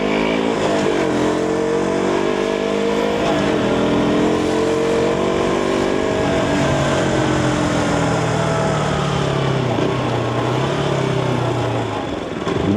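Road traffic heard from a KTM RC125 motorcycle, with engines rising and falling in pitch as vehicles pass close by under constant loud wind rush.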